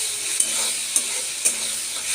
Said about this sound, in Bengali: হলুদ গুঁড়ো আর টমেটো পেস্ট। এগুলোকে খুব ভালো করে কষবো